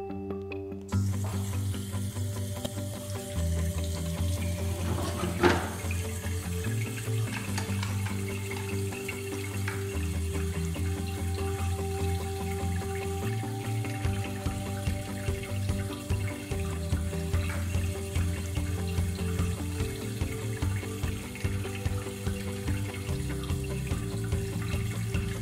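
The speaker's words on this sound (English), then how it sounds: "How to wash your hands properly." Running tap water pours steadily for the whole stretch while hands are washed beneath it, a constant close splashing wash with slight shifts in texture and no talking.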